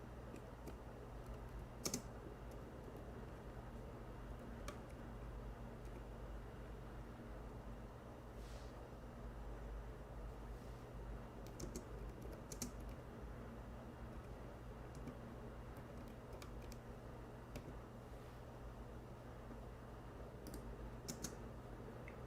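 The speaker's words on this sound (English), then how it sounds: "Oh, I'm typing in English." Someone types on a computer keyboard, soft steady key clicks with occasional sharper taps running throughout against a low constant hum, no voices.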